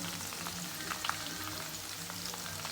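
Homemade herbal hair oil simmers in a pan with a soft, continuous bubbling sizzle, heard close up and fairly quiet, with scattered tiny pops and no talking.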